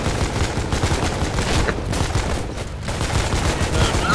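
Gunfire at a tier 1 bunker in the video game Foxhole, dense overlapping rifle and machine-gun bursts rattling continuously, loud and close, with no clear talking.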